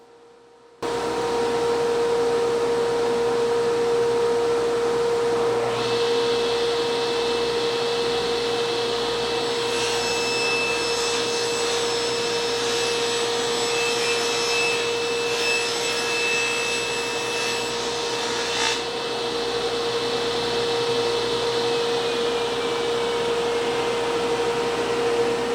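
A power saw rips through a sheet of plywood to make a jig base, giving a loud, continuous whining drone with a steady hum that shifts pitch partway through the long cut, with no talk.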